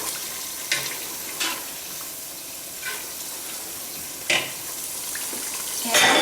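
Beef biryani is stirred in a pot over a steady sizzle, with scattered scraping knocks of a spoon against the metal and a louder clatter at the end.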